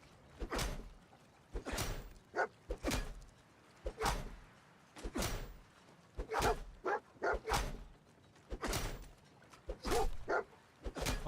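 The dog companion in the video game Fallout 4 barks in a long series of sharp, separate barks, close and spaced a second or so apart, with no talk over them.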